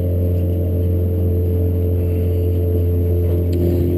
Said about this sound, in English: that's his little 8-high thrust kicker motor running on a remote.